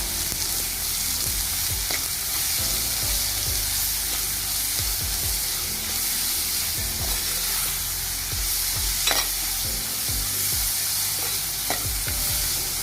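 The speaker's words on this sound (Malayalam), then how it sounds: "നന്നായിട്ടൊന്ന് ഇളക്കി കൊടുക്കാം" Onions frying in a pan for a home-style okra curry, stirred with a spoon: a continuous sizzle runs under repeated scraping strokes and occasional clinks, close and fairly loud.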